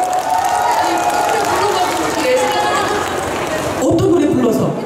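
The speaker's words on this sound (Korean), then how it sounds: "다시 한번 우리 언니께 박수 한번 보내주실래요?" Audience clapping at an outdoor festival concert, a steady loud roar of applause and crowd noise with voices mixed in, swelling briefly near the end.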